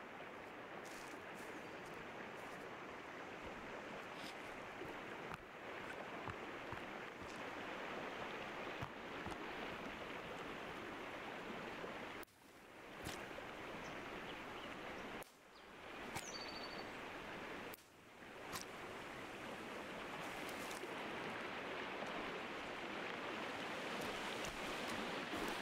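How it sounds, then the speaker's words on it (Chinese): Loud, steady rushing of flowing water in a video game set in an eerie cat museum, a broad continuous wash of noise broken by a few brief dips, with no voices. "为什么这里水声这么大声？"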